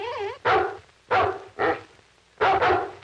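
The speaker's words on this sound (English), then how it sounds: "complained about the persistent barking of Kimball's dog" A dog barks persistently in an old 1940s crime drama, four or five sharp, close barks spaced irregularly, some doubled, over a faint background tone.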